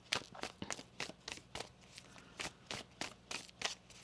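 A deck of tarot cards being shuffled by hand, a quiet, close series of crisp riffling bursts in an uneven rhythm of about a dozen strokes, with no speech.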